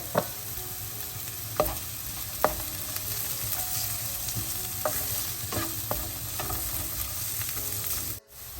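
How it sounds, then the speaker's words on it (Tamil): Carrot, peas and chana dal sauté in oil for rava upma, giving a continuous close sizzle broken by several sharp spatula taps and scrapes against the pan, with no voices. "இப்போ இந்த கேரட் மற்றது பட்டாணி கடலை பருப்பு எல்லாம் கொஞ்சம் வதங்கி கொண்டு வருது"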